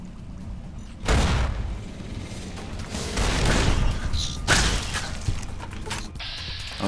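A frag mine goes off in the game Fallout New Vegas inside Broc Flower Cave, a loud booming blast followed by a second crashing burst and rumbling debris over steady game ambience.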